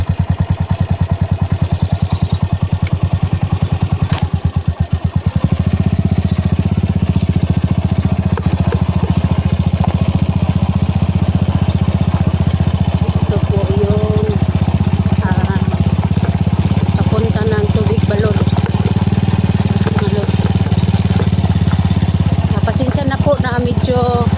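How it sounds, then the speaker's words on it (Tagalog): A motorcycle engine drones steadily and close by throughout, with a brief clatter early on and occasional faint sounds over the running motor. "may ano nagmamaniho ng motor"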